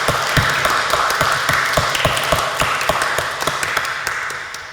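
A church congregation applauds at a Protestant Sunday service, with steady, dense clapping from many hands sounding close and full and fading slightly toward the end.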